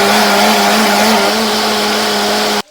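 An electric grinder whirs loudly at a steady high speed while it grinds onions, a continuous motor whine that cuts off abruptly at the end.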